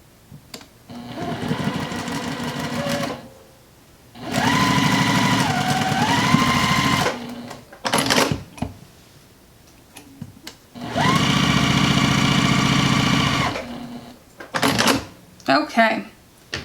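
A domestic sewing machine hums in two long steady runs of several seconds each, stitching quilting fabric squares corner to corner for flying geese blocks, close and loud, with short bursts of handling noise and a voice speaking between runs.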